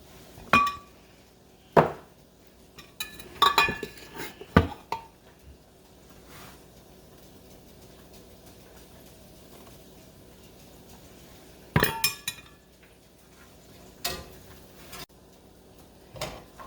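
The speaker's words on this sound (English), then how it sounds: "you gotta keep that stirred around and around" A utensil scrapes and clinks against a frying pan while flour gravy is stirred after pan-frying pork chops, with scattered sharp metallic taps and short scraping bursts separated by quiet stretches.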